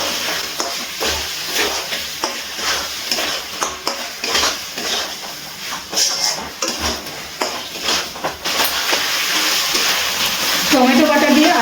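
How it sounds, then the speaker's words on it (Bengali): Mutton with added tomato paste being stirred in a pot over a medium gas flame, with repeated metal utensil clinks and scraping against the pan over a steady low sizzle, close and fairly loud. "এবারে গ্যাসের ফ্লেমটা মিডিয়ামে রেখে খুব ভালো করে আরেকটু কষিয়ে নেব।"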